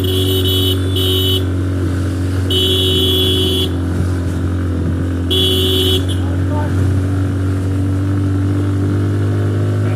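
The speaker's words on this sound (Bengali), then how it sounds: "এখন শুধু বাইক আসবে যারা টুরিস্ট ছিল" Tourist motorbikes ride along the Sajek road, their engines droning steadily throughout with a near, continuous hum and brief high buzzing bursts, under ambient noise.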